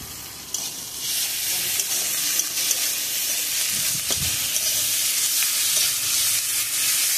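Ginger garlic paste frying in a pot for chicken biryani makes a loud, continuous hissing sizzle, broken now and then by stirring scrapes and small spits.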